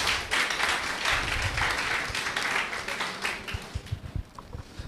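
Applause for the Vice Chancellor rises from an audience at a university induction ceremony, a dense patter of many hands that swells quickly, holds, then thins into scattered claps.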